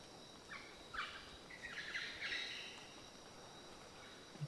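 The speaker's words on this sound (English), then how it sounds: "Birds." Faint, high bird chirps come in short bursts over a quiet outdoor rainforest background near Arenal Volcano, Costa Rica, with a soft hiss throughout.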